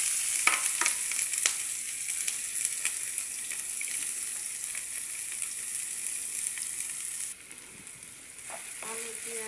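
Thinly sliced potatoes, onions and okra fry in oil, a steady loud sizzle with a few sharp spatula scrapes early on, easing slightly quieter toward the end.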